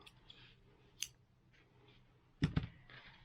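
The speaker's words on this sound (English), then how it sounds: "and just cut off a strand." Scissors snip through a strand of black yarn in a quiet room, with a faint click followed by a sharper double cut up close, with no speech.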